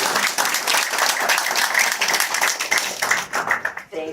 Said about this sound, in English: How about another round of applause for Mary and Bill and Rita?